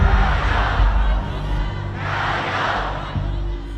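An angry protest crowd in Hong Kong in 2019 roars and shouts in a sustained, swelling mass of voices, loud and steady across the whole stretch.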